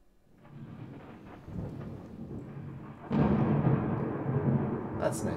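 Rain-and-thunder sample played in Ableton: steady rain hiss under rolling, rumbling thunder that swells midway into a louder, sustained crash before fading into another low roll.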